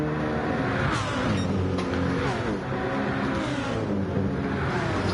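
Several race cars in a racing video game roar down the home straight at Deep Forest Raceway toward the start-finish line, dense overlapping engine notes shifting pitch as they pass, loud and continuous throughout.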